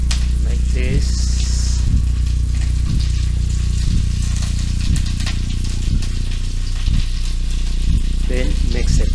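Cut potato pieces fry in oil in a pan while cooking chicken adobo, a steady loud sizzle with periodic stirring scrapes and clatter throughout.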